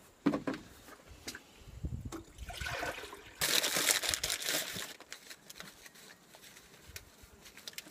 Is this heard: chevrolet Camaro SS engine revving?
no